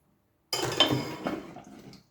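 Chocolate tipped into a hot saucepan of mixture for profiterole sauce, a single close clatter and rattle against the metal pan that tails off within about a second and a half.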